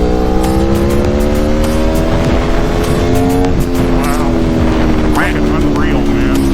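A 2019 Aprilia Tuono RR V4 or 2022 Triumph Speed Triple RS engine pulls hard under a riding motorcycle, its steady rising drone loud and close amid heavy wind rush.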